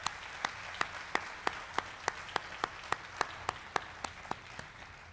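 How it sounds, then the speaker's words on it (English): At a school district's state-of-the-schools address, the audience claps for departing board members: one clear, sharp clap repeats at an even, rhythmic pace, about three per second, over a soft bed of scattered clapping. "They're clapping because they get to go off the board in December."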